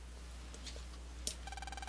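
A mobile phone ringtone starts partway through and repeats a fast, regular electronic trill at fairly low volume, after a click and some faint room noise.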